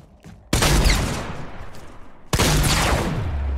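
Two loud, sharp sniper rifle shots in a video game, about two seconds apart, each with a booming tail that fades off.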